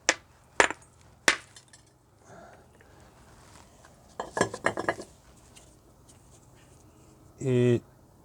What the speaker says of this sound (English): Let's give this Masonry Hammer a bit of a go.